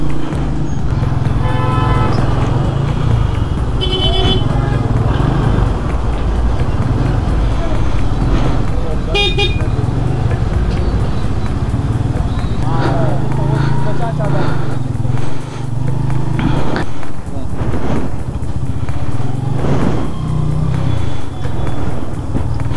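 A full-size bus approaches along an unpaved dirt track on a mountain road in Kashmir, its engine rumbling steadily with horn toots and other traffic mixed in, while people talk over the noise throughout.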